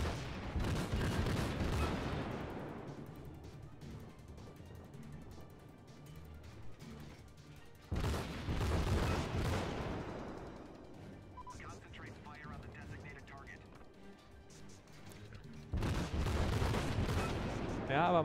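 Naval gunfire in World of Warships, with heavy booming salvos from warships including a South Carolina and a St. Louis, arriving in three loud broadband bursts that roll off into rumbling decay, with speech over the top.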